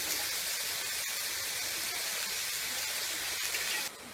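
Hot oil sizzles steadily on radish thecha in a pan, a continuous close, loud hiss throughout that drops off sharply at the very end.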